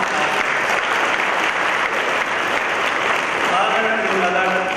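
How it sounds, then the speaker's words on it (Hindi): Audience at a Jain religious discourse in Chennai claps steadily in honour of parents, a dense continuous applause that holds at even loudness throughout, with a faint voice rising near the end. "मम्मी पापा के सम्मान में ताली हो जाओ तो"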